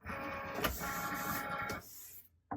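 Cricut cutting machine drawing in a printed vinyl sticker sheet on a cutting mat, a close, steady motorized whir with a brief clunk, then near silence and a short final mechanical sound.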